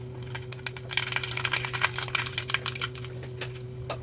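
Mustard seeds pop and crackle in hot oil, rapid irregular sharp ticks over a low steady hum.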